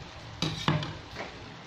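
Kangkong (water spinach) tossed into a hot pan with tofu and oyster sauce, giving two sharp clanks and a soft sizzle as it is stirred, close and fairly quiet.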